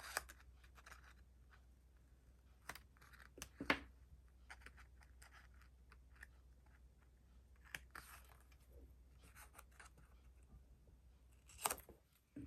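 Scissors snip through a sticker sheet at a journaling desk, with small crisp cuts and rustles scattered through a quiet room and a steady low hum underneath, no voices.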